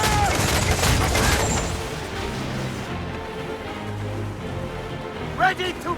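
Musket volleys crackle in a naval battle in Assassin's Creed 4 Black Flag, a loud burst of overlapping shots that fades into rumbling background combat, with shouted voices heard near the end.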